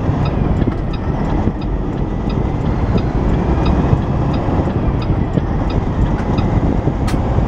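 A vehicle passes on a rural country road, heard from inside a truck towing a 13,000-pound trailer, a steady broadband road and wind roar filling the whole clip with no distinct approach or peak.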